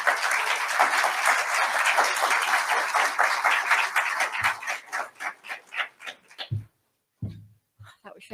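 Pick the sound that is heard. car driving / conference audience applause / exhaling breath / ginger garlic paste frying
conference audience applause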